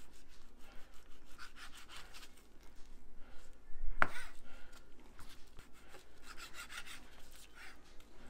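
A knife slices raw chicken breast across the grain, making repeated soft rasping strokes close by with one sharp knock on the board near the middle.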